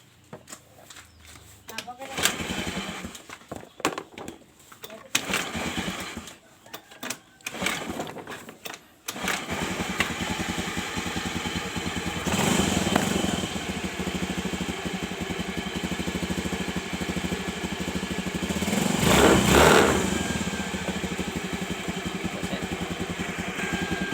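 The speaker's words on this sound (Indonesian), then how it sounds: "Kita coba lihat geberan gasnya ya teman-teman." A motorcycle engine is revved with the throttle during a battery and charging check; after an uneven start with some talk, a steady drone sets in, swelling in two louder rev surges.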